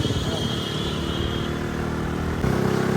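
A motorcycle rides along a road, its engine a steady close drone that swells louder near the end, with people talking over it.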